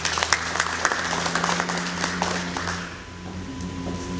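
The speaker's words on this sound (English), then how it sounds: "Let's give them a round of applause, please." A breakfast networking audience claps for a round of applause, brisk close handclaps that thin out and fade toward the end, leaving quieter room ambience with faint murmurs.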